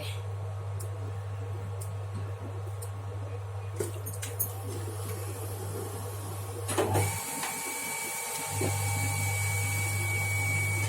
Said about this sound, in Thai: เสียงปั๊มดังนะคะ ขอโทษนะ